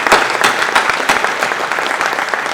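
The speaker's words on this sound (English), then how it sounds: "So I'd like to give her another round of applause" An audience at an aviation museum speech gives a loud, close round of applause for a city councilmember, with sharp individual claps standing out over a steady crowd patter.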